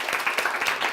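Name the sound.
audience applause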